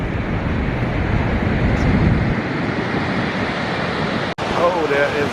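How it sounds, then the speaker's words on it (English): Strong gusty wind at Niagara Falls buffets the microphone in a loud, continuous roar that drops out for a brief moment near the end, with no talk over it. "Oh, there is a lot of wind."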